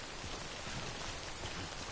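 Steady rainfall in the video game Death Stranding, a dense even hiss of falling rain that stays constant throughout without any talk.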